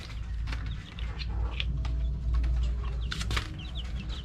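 Chickens being raised in a pen cluck repeatedly in short, overlapping bursts, fairly close, over a steady low background rumble with no talking.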